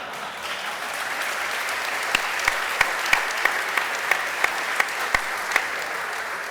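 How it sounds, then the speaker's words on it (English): A conference audience at JSConf breaks into applause, a loud close wash of clapping with a few sharp individual claps standing out and no talk over it. "Only at JSConf do you get applause for breaking like half the web."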